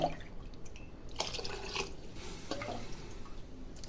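Water poured from a glass into rice and moong dal for khichdi, a soft trickling splash with a few drips, close and fairly quiet.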